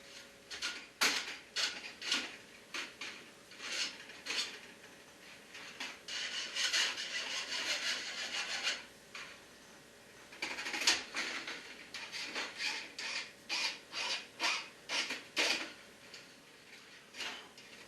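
Cut tubing for a homebrew jockey box having its inner edges deburred by hand, a steady series of close, scratchy rasping strokes with short pauses between bursts, no talking.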